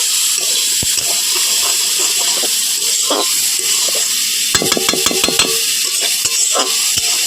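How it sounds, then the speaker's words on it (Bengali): Salted onion frying in a kadai gives a steady, close sizzle throughout, broken by a brief run of clicking stirs and scrapes against the pan near the middle, with no voices. "পেঁয়াজটাকে নুন দিয়ে মাছিয়ে রেখেছি কড়াইতে ঢুকে ঢুকে জল ছাড়তে শুরু করেছে এরকম হালকা অবস্থা এটাকে ভেজে নেব"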